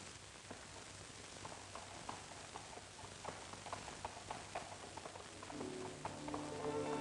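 Horse hooves clip-clop steadily at a moderate distance on a faint, hissy 1950 film soundtrack, the beats growing slightly louder near the end as a low hum rises.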